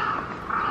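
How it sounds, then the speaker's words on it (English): A single drawn-out crow caw in Osaka, Japan, loud and fairly near, filling the whole moment. "That was a crow"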